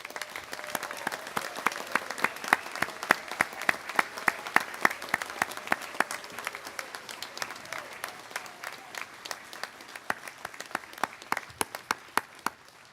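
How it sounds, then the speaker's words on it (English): A small audience at a college graduation gives graduates sparse, individual claps, distinct and fairly steady, close and moderately quiet, continuing for over ten seconds. "give a special round of applause to all our graduates"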